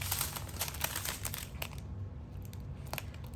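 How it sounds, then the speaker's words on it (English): Scissors snipping open small plastic bags of diamond painting drills, giving quick crinkly cuts and rustling plastic at close range, busier at first and then sparser. "I'm just gonna cut these bags."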